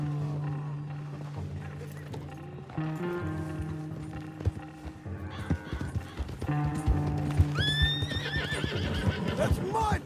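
A horse from Red Dead Redemption 2 whinnies and snorts over steady hoof clip-clops, with a low droning music bed and some speech-like voices mixed in.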